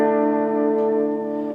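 Electric guitar played through a tube amp's clean channel, a single sustained chord ringing out with rich harmonics, slightly broken up, loud and close, fading gently with no talk.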